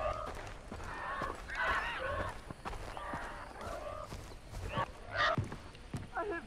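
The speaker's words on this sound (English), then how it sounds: "What's wrong with those birds?" Birds in Far Cry 3 squawk and honk repeatedly, goose-like calls rising in several bursts over a busy, rustling game backdrop with soft steps.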